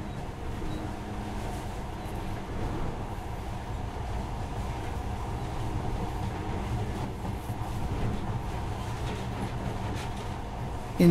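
Monorail train from the video game Metro: Last Light Redux, a steady rumbling rail ride with low mechanical drone and faint rattling running continuously throughout, no talk.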